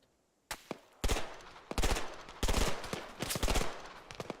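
Gunfire in an Arma 3 Antistasi firefight comes in loud, close bursts of rapid automatic shots, several volleys broken by short pauses.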